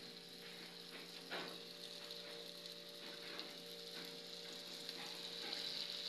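Tequeños frying in a pan of oil over lowered heat, a steady soft sizzle with occasional faint crackles, fairly quiet and continuous throughout, no talking.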